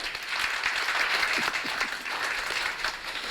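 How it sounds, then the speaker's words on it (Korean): An audience at a political meeting with company chief executives applauds a presidential candidate, a dense, sustained round of clapping from many hands. "여러분 힘찬 박수로 환영 부탁드리겠습니다"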